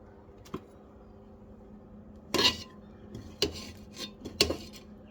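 Rice and curry being mixed by hand on a plate: a few short, scattered clinks and scrapes against the dish over a quiet room background, with no talking.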